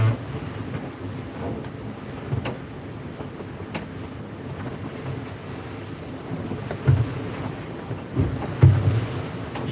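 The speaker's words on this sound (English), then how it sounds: "Yeah, there's some waves." Waves slap and wash against a sailboat on Hood Canal under steady wind buffeting the microphone, with a few louder splashes toward the end.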